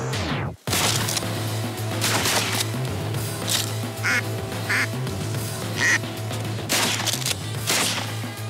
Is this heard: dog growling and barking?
no